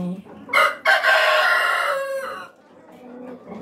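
Rhode Island Red breeder chickens in cages, one loud rooster crowing at close range in a long harmonic call, then softer clucking afterward.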